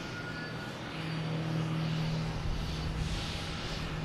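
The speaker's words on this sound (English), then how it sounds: "that's right behind the Cape Air is Lufthansa, A340. Heading back to Frankfurt." A Lufthansa Airbus A340 jet at Boston Logan Airport gives a steady, distant engine roar that builds slightly after the first second and holds as a broad, even rumble with a faint low tone.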